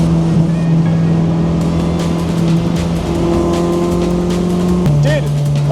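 A race car engine droning steadily while the car is driven around a track, loud and close with shifting pitch, and voices talking over it.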